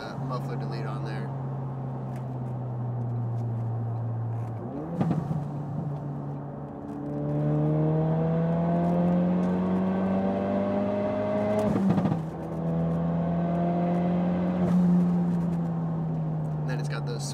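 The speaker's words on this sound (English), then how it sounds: "and then you shift, it backfires like that." A Ford Focus RS with a muffler delete in track mode drones and climbs through revs, with sharp pops at each shift, heard from inside the car while people talk over it.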